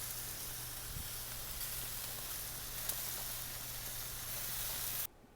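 Peppers roasting on a grill give off a steady close sizzle and hiss with faint crackles throughout, with a low hum underneath, ending abruptly.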